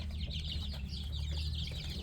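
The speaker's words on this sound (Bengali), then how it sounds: "এখানে হচ্ছে 2টা মোরগ রাখছি, এগুলো 1 কেজি করে হয়ে গেছে" Chickens around two months old clucking and murmuring on a poultry farm, a steady low chorus under constant background hum with no talking.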